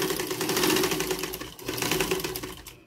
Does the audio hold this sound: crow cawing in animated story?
no